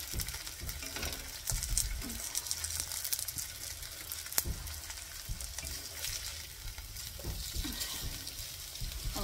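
Food sizzles and crackles steadily while frying in a pan, likely sausage, bacon or hash browns for brunch bagels, a continuous close crispy hiss with a few sharper pops throughout.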